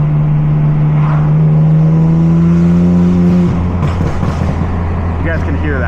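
A BMW M car revs hard with a loud, steady engine drone, then drops off into popping, crackling exhaust burbles close by. Nobody talks over it.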